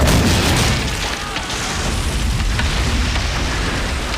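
A missile explosion in the Assassin's Creed Pirates video game during a naval battle, heard as a loud, sustained rumbling boom with a broad blast that fills the whole clip and eases slightly after the first second.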